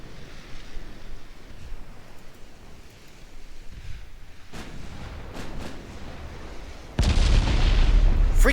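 Naval 9-inch guns fire in the warship game Ultimate Admiral Dreadnoughts, with scattered distant booms over a steady background rumble, ending in a loud, close blast that sustains to the end.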